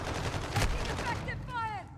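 Gunfire in a first-person shooter video game, a dense burst of shots with one heavier crack, continuing under game radio voices and chatter across the clip.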